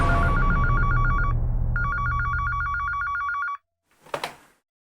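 A telephone rings for an incoming call, a loud electronic trill in two bursts over a low background hum, then cuts off before a brief clatter as the receiver is picked up.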